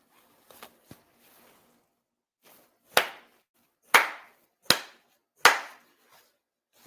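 Four sharp, deliberate hand claps at a Japanese autumn memorial ceremony, evenly spaced and ringing in a reverberant hall, preceded by a few faint taps and rustles.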